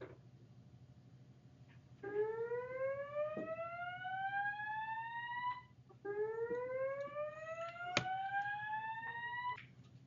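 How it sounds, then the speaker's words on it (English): A classroom fire alarm sounds in two long rising sweeps, each a couple of seconds, over a steady low hum, fairly faint and with no talk. "before the fire alarm went off"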